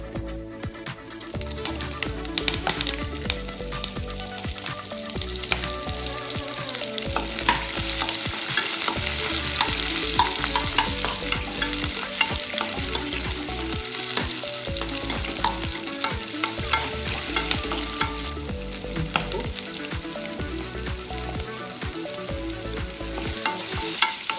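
Dried red chillies, curry leaves, onions, green chillies and crushed shallots frying in tempering oil for tomato rasam, a continuous loud sizzle and crackle with constant stirring, heard alone without any voice.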